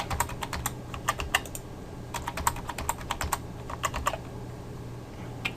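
Password typed on a computer keyboard, with quick bursts of crisp key clicks in irregular clusters and short pauses, close and clear over faint background hum.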